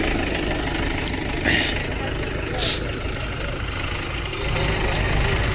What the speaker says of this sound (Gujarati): આ 4x4 આવ્યું છે એને ખેંચવા માટે આગળ મહિન્દ્રા યુવો ટેક 585 DI